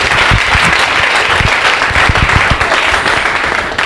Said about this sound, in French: demander au public de pouvoir applaudir très fort.